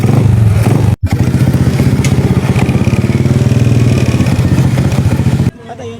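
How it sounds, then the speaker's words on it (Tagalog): A Rusi 925 motorcycle engine runs loud and close with a steady, throbbing putter, briefly interrupted by a sharp break and then dropping off near the end. "Inaalagaan ko itong motor na ko."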